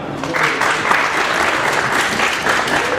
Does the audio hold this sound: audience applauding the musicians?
yes